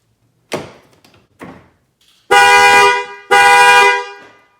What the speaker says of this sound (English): now this will set off the alarm